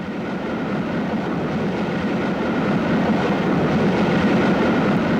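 A Class 40 diesel locomotive hauls an up express past Kings Langley, a steady heavy rumble of engine and rolling train that swells gradually louder as it draws near.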